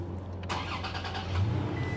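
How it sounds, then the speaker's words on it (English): A 3rd generation Toyota Tacoma truck engine cranks into life about halfway through and settles into a steady, close idle hum inside the cab, with no talking. "I'm gonna go ahead and start the engine"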